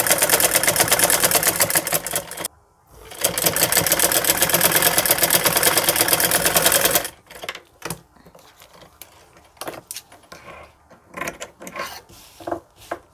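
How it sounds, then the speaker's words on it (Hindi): A sewing machine runs in two long, steady bursts, stitching a fabric strip onto a palazzo pant. After a brief pause, the second run stops and gives way to quieter handling sounds. "जहाँ हमने ये सिलाई लगाई है उसी सिलाई के ऊपर हम अपनी सिलाई को लगाएंगे"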